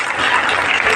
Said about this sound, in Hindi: तालियां बजाकर मैम का स्वागत करें